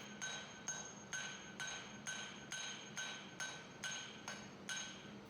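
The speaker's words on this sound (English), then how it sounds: "Flatten a bit with the hammer face, widen it with the cross peen" Hammer striking hot metal while forging a small leaf charm, about ten evenly spaced ringing blows in a steady rhythm, each with a bright metallic clink and short decay, close up and alone.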